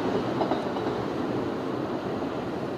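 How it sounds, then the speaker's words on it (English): Long Island Rail Road train rumbling past on an overhead track, a steady loud roar with faint clickety-clack of wheels throughout, no voices. "You have to excuse the trains going overhead. That's the Long Island Railroad."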